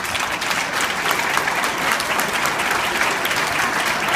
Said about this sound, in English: please let's give you a round of applause